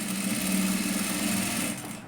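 Close and steady, a sewing machine hums through a short run of fast, regular stitching on a katori blouse, easing off at the very end.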